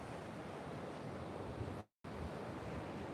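Steady broadband roar of ocean surf rolling onto a Gold Coast beach between Greenmount and Snapper Rocks, with wind buffeting, continuous and loud apart from a brief dropout near the middle.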